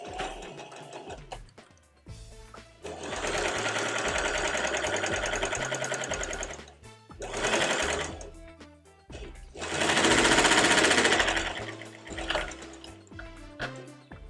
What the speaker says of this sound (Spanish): Entonces empezamos cosiendo.